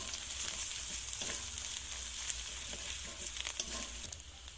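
Onion browned with chilli powder and spice masala sizzles steadily in a pan, with soft stirring scrapes and small spatters throughout at close range.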